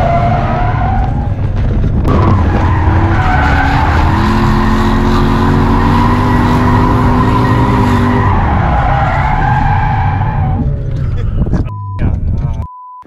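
A drift car slides around a race track with a loud, sustained tire squeal layered over a roaring engine for about ten seconds, then cuts off abruptly.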